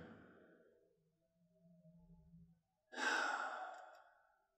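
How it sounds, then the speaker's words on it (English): Heavy breathing in the visual novel Lucy -The Eternity She Wished For-: a few quiet, drawn-out breaths followed by a sharper, louder exhale that fades away, close and isolated. "I try to slow down my breathing."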